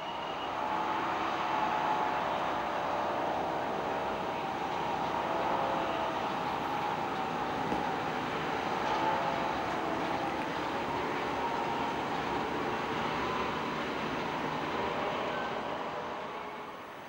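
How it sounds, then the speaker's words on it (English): An empty iron ore train rolls along the Malmbanan railway toward Kiruna, a steady broadband rumble with faint metallic tones that holds at an even level for the whole stretch and eases off slightly at the end. "An empty ore train returns to Kiruna for its next load"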